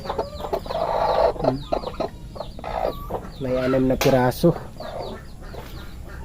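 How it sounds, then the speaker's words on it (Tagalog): A hen with newly hatched chicks clucks among other chickens on a cold, rainy farm, with repeated near clucks and calls while someone talks over them. "Meron din tayong na bagong nagpisa dito ng manok mga lodi oh"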